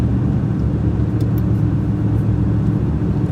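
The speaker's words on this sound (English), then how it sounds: "We are seeing a few cars out." Steady, loud low rumble of car traffic on a neighborhood street, a continuous engine and road drone with no clear pass-by peaks, heard alone without talk.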